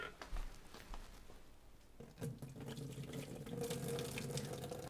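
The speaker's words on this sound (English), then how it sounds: "For the fish, it's cooked. I'm going to drain it right now." Water from a pot of cooked fish being drained into a sink, heard as a soft, steady pouring and splashing that grows fuller and louder after the first couple of seconds, with no talking.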